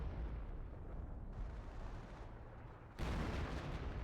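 Distant mortar fire rumbling in a PhoenixMod strategy video game battle, low steady booming and battle noise with a sharper, louder swell near the end.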